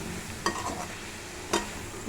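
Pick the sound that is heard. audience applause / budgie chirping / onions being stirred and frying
onions being stirred and frying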